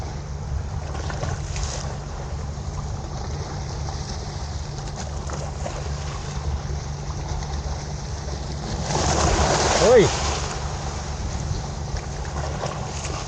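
Strong sea waves rock a fishing boat on rough water. A steady low engine drone and wind run throughout, and a louder rushing splash of water swells up briefly near the end.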